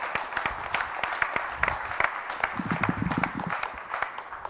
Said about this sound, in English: Round of applause for the sponsors.